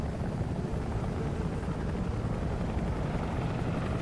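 A military helicopter from the shooter game Homefront drones steadily and loudly overhead, a dense low rotor rumble that fills the whole stretch without a break and with no talking.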